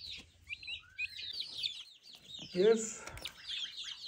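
Young chicks sharing a pen with a turkey hen give a busy chorus of close cheeps and peeps, with a louder clucking burst in the middle and a brief voice near the start.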